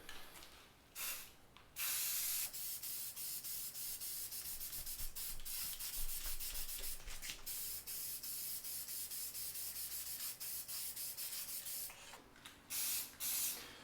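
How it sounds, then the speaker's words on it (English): Spray paint hissing in long continuous bursts onto the outer body of a 1960s Canadian Coleman 414 Vagabond camp stove, close and steady with brief pauses between passes. "Well, here we are painting the outsides"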